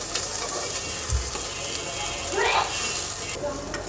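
Curry water poured into a hot pan of cooked-down spiced vegetables for a mild shrimp, drumstick and potato curry gives a steady, close broadband sizzle with a brief louder hissing burst midway, and no talking.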